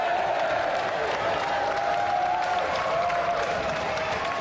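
Studio audience applause for the champion at the finale of a television games show, a dense, loud, continuous clapping with crowd noise and a few cheers, holding steady throughout.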